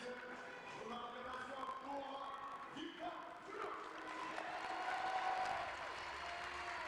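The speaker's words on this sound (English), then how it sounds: "what a cheer from the supporters here in France" Supporters cheering at the final of the 2022 Nimes Archery Tournament in France, a sustained crowd roar with applause that swells toward the end, with voices mixed in throughout.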